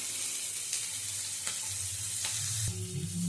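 Chopped onions fry in a pan for a taro-stolon and poppy-seed curry, a steady close hiss and sizzle with a few faint clicks and a low background hum, with no talking.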